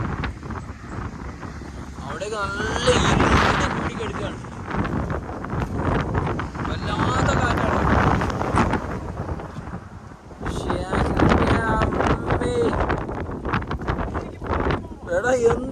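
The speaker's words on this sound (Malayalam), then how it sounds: "അസാധ്യ കാറ്റാണ് നിൽക്കാൻ പോലും കഴിയുന്നില്ല" Strong wind roars and buffets the microphone almost nonstop, with a person talking loudly over the gusts.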